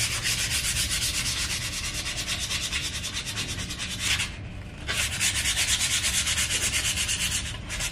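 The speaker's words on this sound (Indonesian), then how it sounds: "Nanti baru kita pakai amplas yang lebih halus" Loud, rapid back-and-forth scraping of sandpaper removing rust from an old mandau blade, continuous rhythmic strokes with a brief pause midway, no voices.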